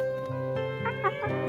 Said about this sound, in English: This is our cutest rooster, Spaz.